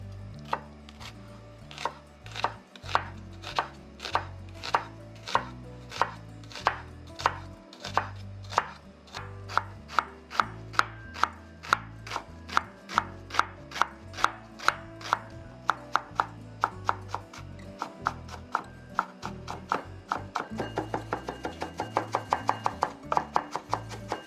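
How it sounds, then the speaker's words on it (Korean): Steady, rapid knife chopping as onion is finely minced on a cutting board, dozens of crisp close taps in a fast even rhythm, quickening near the end. "양파도 곱게 다져주세요."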